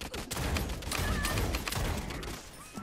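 Gunfire in the battle royale game Realm Royale crackles in rapid, dense bursts, a continuous volley of shots at moderate volume lasting nearly three seconds.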